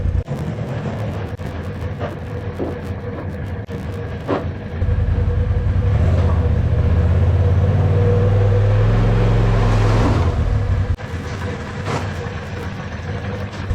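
Polaris RZR Pro XP side-by-side engine idling while warming up, a low steady rumble with clicks and handling noises, swelling louder midway before settling back.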